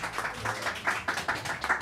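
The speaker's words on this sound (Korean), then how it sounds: "큰 박수로 모두 환영해 주시기 바랍니다." Audience clapping at a Korean ceremony opening a Seoul arts creation center for disabled artists, welcoming the president of the Korea Disabled Artists Association; a thin, fairly steady patter of hand claps with a low background hum.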